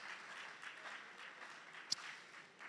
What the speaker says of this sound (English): Another round of applause, Dr. Max.